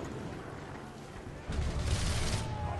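Sniper Elite 3 video game gunfire: a dense barrage of loud shots and booms that swells sharply about halfway through, continuous and crackling with no pauses.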